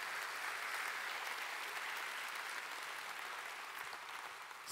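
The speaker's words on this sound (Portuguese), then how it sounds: "Dê um aplauso se você concorda." Congregation at a church service applauds in a continuous, even wash of clapping, faint and distant, with no talk over it.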